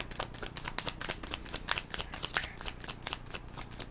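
A deck of tarot cards is shuffled in quick, steady riffling snaps, close and continuous with an even rhythm and no talking.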